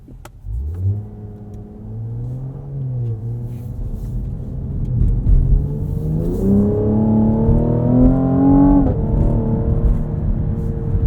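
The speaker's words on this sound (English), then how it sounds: "That pop between shifts is actually pretty satisfying." A 2020 Cadillac CT5-V AWD in track mode revs up through the gears, its engine note climbing steadily and popping between shifts, loud and close throughout with no talking.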